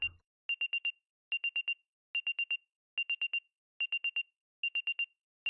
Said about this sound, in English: Is that sound a watch alarm?